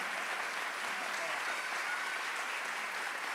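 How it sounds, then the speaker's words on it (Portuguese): Standing audience in Araraquara applauding the honored author Djamila Ribeiro at the FLISOL 2024 literary panel, a dense, steady wash of many hands clapping at even volume throughout. "recebendo aplausos em pé de Araraquara"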